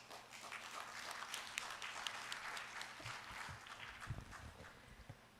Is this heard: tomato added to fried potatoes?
no